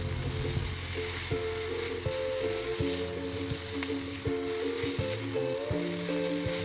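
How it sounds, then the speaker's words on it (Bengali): Maggi noodles are tossed with vegetables in a hot wok, a continuous soft sizzle and frying crackle broken by occasional scraping knocks of the stirring spoon. "এবার খুব ভালো করে সবজির মধ্যে নুডলসগুলো মিশিয়ে দিচ্ছি"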